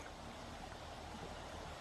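Steady broadband rush of creek water flowing while someone walks across the creek at Standing Indian Campground near Franklin, North Carolina, constant and fairly soft with no speech.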